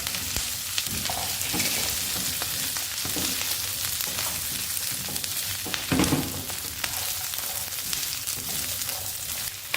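Previously fried chicken for chicken 65 tossed into a hot pan: a dense, steady sizzle close by, with a brief louder clatter partway through and intermittent stirring scrapes.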